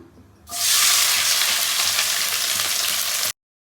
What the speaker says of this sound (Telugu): నూనె బాగా వేడాక మనం ఉల్లిపాయలు వేసుకుంటున్నాము.